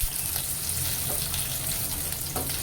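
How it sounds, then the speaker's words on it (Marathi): Onion fries in hot oil in a pan, a constant close hiss and crackle with faint irregular pops, steady and without talk. "आता यामध्ये मी कांदा घालून घेते आहे."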